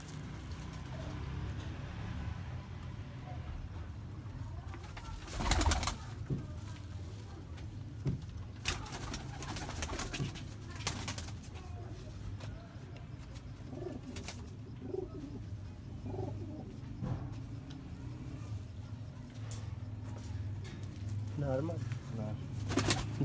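Sialkoti pigeons in a rooftop loft coo softly and intermittently against a steady background hum, with someone speaking over them and occasional bumps and clatters.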